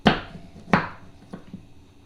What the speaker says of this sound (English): And then you're going to cut it down the middle.